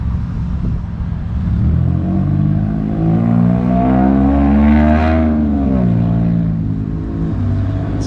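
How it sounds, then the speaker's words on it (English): A car with no muffler drives past a small-town post office in Grand Rapids, Minnesota, its loud raw exhaust drone swelling as it nears and then fading as it moves away. "that car that drove by sounds like it does not have a muffler"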